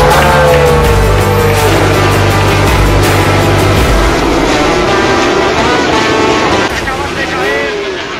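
Loud roaring MotoGP racing motorcycles sweep past one after another at the Mandalika circuit in Indonesia, their pitch rising and falling as they approach and pull away, with a constant wash of crowd and wind noise.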